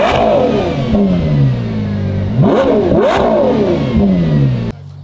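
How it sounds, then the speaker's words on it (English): A Ferrari Purosangue V12 SUV with a titanium exhaust revs hard several times, its loud, close engine note sweeping up and falling back between blips before cutting off abruptly at the end. "That's a Purosangue, straight up Ferrari SUV."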